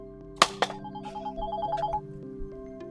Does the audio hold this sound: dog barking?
no